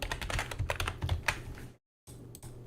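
Rapid keystrokes on a computer keyboard while typing code, close and clear in a quick irregular rhythm, a brief silent gap, then more typing.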